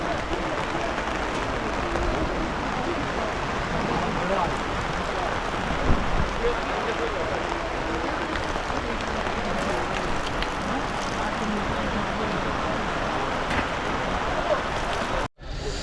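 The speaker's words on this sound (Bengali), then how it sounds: "প্রচণ্ড জোরে বৃষ্টি হচ্ছে" Heavy rain pours at a fair in Bishnupur, a loud, unbroken roar of drops hammering surfaces, with voices faintly audible beneath it before it cuts off near the end.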